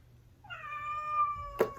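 A cat meowing indoors, one drawn-out tonal meow rising then holding, close and clear, ending with a short sharp knock.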